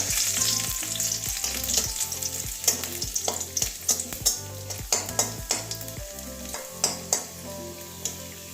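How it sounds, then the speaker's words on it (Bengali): Garlic fries in hot oil in a pan, a constant bright sizzle punctuated by a quick series of sharp spatula clacks and scrapes against the metal, close and without speech. "কাঁচা গন্ধ যাওয়ার পর্যন্ত ভেজে নেব রসুনটা"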